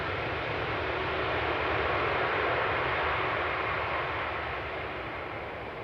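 Vueling airliner arriving at Amsterdam Schiphol from Barcelona, heard as a steady, broad jet roar at moderate distance that holds level for several seconds and eases slightly toward the end, with no voices.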